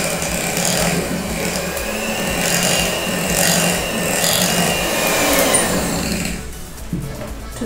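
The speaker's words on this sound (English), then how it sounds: "I'm just going to cream together with electric hand mixer so that it's smooth." An electric hand mixer churns through 400 grams of cream cheese in a bowl, a steady buzzing, scraping whir that runs continuously and then stops near the end.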